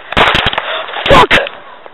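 A sharp, loud bang rings out, followed by a second sharp crack moments later, set against quiet outdoor background.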